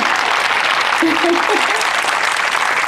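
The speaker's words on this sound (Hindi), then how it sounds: "तालियां बजाओ, खुशी" Children clap together at an ashram gathering in Ahmedabad, a dense, steady patter of many small hands held for a few seconds, with a brief voice rising over it midway.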